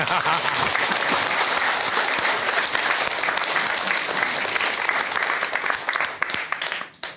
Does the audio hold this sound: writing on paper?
no